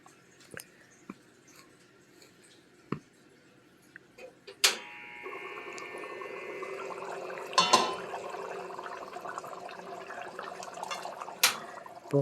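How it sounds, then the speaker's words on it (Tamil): A pot of goat trotter paya curry simmers on the stove, with faint bubbling that rises partway through, broken by a few sharp clicks and clinks nearby. "நல்லா கொதி வரட்டும்."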